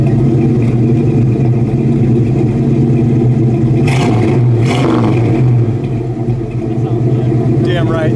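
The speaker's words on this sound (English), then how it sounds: "Yeah, great sounding exhaust. Sounded good when you took off too." A 1969 Chevelle convertible muscle car rumbles and revs as it pulls away, its deep exhaust loud and steady with people talking over it.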